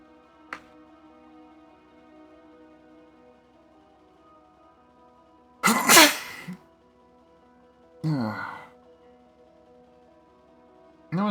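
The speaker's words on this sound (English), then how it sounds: "gonna sneeze again." Sneezing indoors over a quiet background hum, with two loud, sharp sneezes a couple of seconds apart, a smaller sound early on and the start of another burst at the very end.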